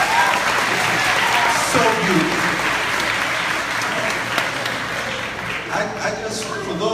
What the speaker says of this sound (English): Can we just give a round of applause to these great children?